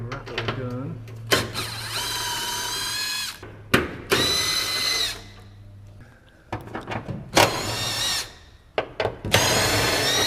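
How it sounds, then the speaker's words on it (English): Pneumatic rattle gun undoing the fuel tank strap bolts during a race fuel cell install on a Honda Civic EG6, with several loud bursts of whirring separated by pauses and clanks, and people talking between bursts. "On the rattle gun."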